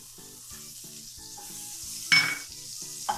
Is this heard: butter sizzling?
yes